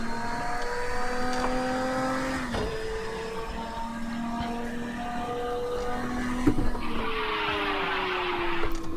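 Lamborghini Diablo GTO in a racing video game spinning out on the snowy Zolder circuit, engine droning with shifting pitch and tyre squeal, loud and steady without talk.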